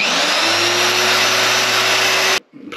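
An electric chainsaw chain sharpener's small grinding motor runs at a loud, steady high whine for about two seconds, then cuts off abruptly into a quieter rumble.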